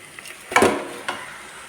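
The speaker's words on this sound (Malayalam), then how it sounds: "ഇനി ഇതിലേക്ക് നമ്മൾ നേരത്തെ മസാല പുരട്ടി വെച്ച ചിക്കൻ കഷ്ണങ്ങൾ ചേർത്ത് കൊടുക്കാം" Masala-coated chicken pieces drop into a pan of sautéed tomato for chicken curry, giving a brief close clatter and a soft sizzle-stir burst, then a second smaller scrape, with no talking.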